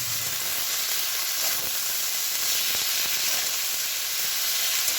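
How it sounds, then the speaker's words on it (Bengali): Egg greens and potato fry in oil in a home kitchen, giving a loud, steady sizzle with faint crackles and occasional stirring scrapes, no voices. "ডিমের শাকগুলো ভেজে নিই। এইটা আর একদিন হয়েছিল শুধু, আজকে একটু আলু দিয়ে ভাজা করি"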